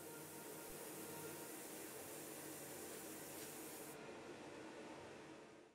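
An airbrush sprays black primer onto a painted miniature, a steady close hiss of compressed air that holds evenly for several seconds before easing slightly near the end.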